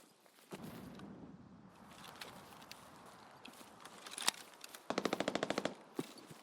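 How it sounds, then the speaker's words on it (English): Faint, distant bursts of rapid gunfire crackle in quick volleys, with scattered single shots and soft movement sounds between them, in the video game Escape from Tarkov. "where do you guys think those gunshots are?"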